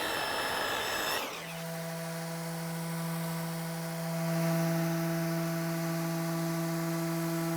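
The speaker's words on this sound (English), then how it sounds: "here I am cutting my scarf joint" A table saw cuts an angled scarf joint in base moulding: a sharp start after a second, then a loud, steady motor whine with a strong hum that holds through the cut, close and with no talking.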